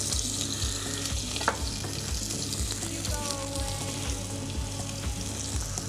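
Mushrooms sizzling steadily in oil in a pan, a dense, even crackle at moderate level, with a faint repeating low thump beneath it and brief stirring clinks.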